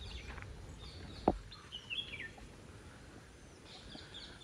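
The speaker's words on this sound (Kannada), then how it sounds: "ಪಕ್ಷಿಗಳು ಸೌಂಡ್ ಮಾತ್ರ ಕೇಳಿಸ್ತಾ ಇದೆ, ಬಟ್ ನಮಗೆ ಕಾಣ್ತಾ ಇಲ್ಲ ಎಲ್ಲಿದೆ ಅಂತ" Birds call at Ranganathittu bird sanctuary, with scattered faint chirps and one sharp brief note rising above a quiet outdoor background, heard from a distance.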